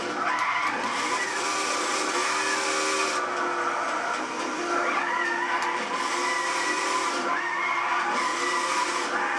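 A car engine in a Gran Turismo 6 drag race screams steadily at high revs, with rising and falling pitch sweeps as quick gear shifts hit around 8,000 RPM, loud and continuous with tire hiss.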